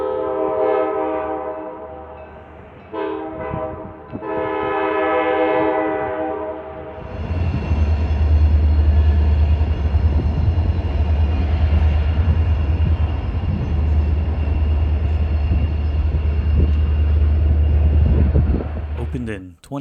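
Amtrak Piedmont passenger train number 77 departing Raleigh: after a sustained horn blast, a steady low rumble of the moving train continues under the ride, fairly loud and constant.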